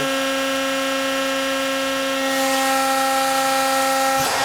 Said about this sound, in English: Press is clamped, 300 tons, decompress, opening.